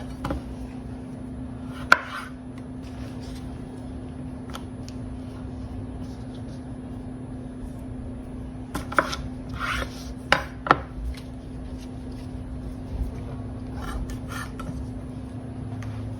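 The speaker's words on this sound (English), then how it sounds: "So we're gonna cut a short fry style." A knife slices potatoes into short fries on a board, sparse sharp chops with a quick cluster of cuts midway, over a steady low hum in a quiet kitchen.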